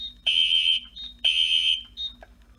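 A fire alarm panel in general alarm sounds loud, pulsing electronic tones, about one second on and a short gap off, repeating steadily with nothing else over them.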